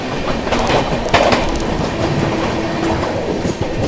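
Passenger trains crossing as the Tamil Nadu Superfast Express runs past on a twin track: a loud, steady roar of wheels with clickety-clack over rail joints and faint squeals, close and continuous with no talk.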